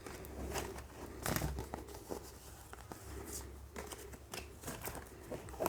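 Soft shuffling, riffling and crinkling as a second tarot card deck is handled close up, quiet and continuous with occasional sharper card snaps.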